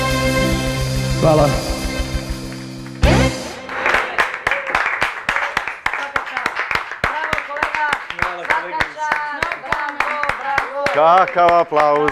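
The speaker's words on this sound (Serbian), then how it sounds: "Kakav aplauz" Studio audience applause and clapping on a Serbian television show, a dense run of sharp claps that starts abruptly after music and continues loud and steady, with a cheer or voice rising near the end.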